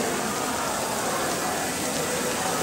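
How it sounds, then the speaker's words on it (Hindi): Heavy rain pouring steadily at a temple in Tamil Nadu, a dense, continuous broadband hiss of downpour on surfaces filling the whole clip without letup. "यात्रा स्टार्ट होने से पहले बारिश होना शुरू हो गया और काफ़ी भयानक बारिश आ"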